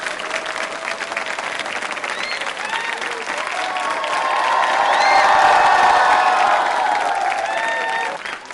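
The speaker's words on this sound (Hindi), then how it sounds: "तो इस संकल्प के लिए जोरदार तालियां बजाइए आप, जोरदार" A crowd at a Republic Day quiz show breaks into loud, sustained applause that swells toward the middle, with scattered cheers and a few shouts.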